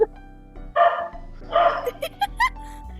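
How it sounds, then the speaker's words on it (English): Several short dog barks and yips, close and fairly loud, come in quick separate bursts with brief gaps between them, no voices alongside. "Dogs."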